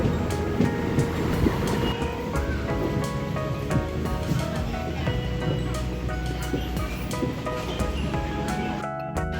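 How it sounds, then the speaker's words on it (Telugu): A train rumbles steadily along the tracks close by as it approaches the Vijayawada railway station platform in heavy rain, a continuous heavy roar with humming machinery tones and faint voices underneath. "ప్లాట్ఫారం మీదకి బండి అయితే వెళ్ళిపోతుంది"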